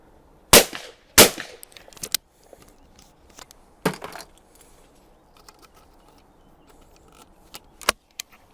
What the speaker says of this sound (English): So I'm going to shoot a couple more.